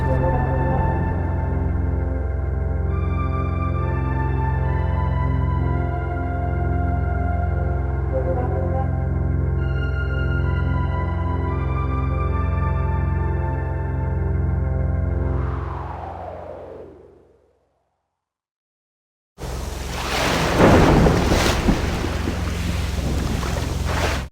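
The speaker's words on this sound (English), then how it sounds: "Lightning flashed and a blast of wind sprang up. A terrible storm broke out." Storm at sea from The Little Mermaid 3DO game: loud sustained droning tones fade away into a brief silence, then a harsh, roaring rush of wind and crashing waves bursts in.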